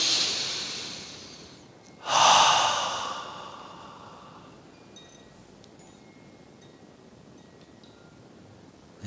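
One deep breath draws in through the nose and then releases in a long, breathy sigh during a guided yin yoga nidra session, followed by quiet stillness with faint clinks.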